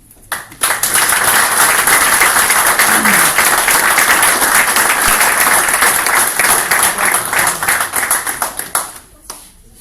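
A crowd at an awards ceremony applauds with dense, steady clapping that starts abruptly, holds for several seconds, and fades out.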